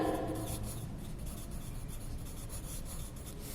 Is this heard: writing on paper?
yes